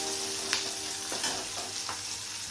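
Tomatoes fry in oil in a pan for a pabda fish curry, giving a steady close sizzle with a few soft stirring scrapes and no talking.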